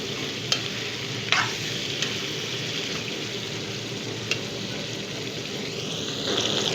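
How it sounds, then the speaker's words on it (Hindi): Chicken pieces sizzle steadily in a hot pan for korma, with a few clanks of a spoon stirring, close and loud with no talking. "चिकन को गोल्डन होने तक पकाना है।"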